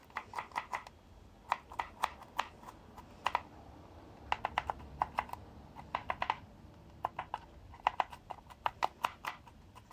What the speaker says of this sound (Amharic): እሱን ለማድረግ ዝንጅብሉን ትከትፉታላችሁ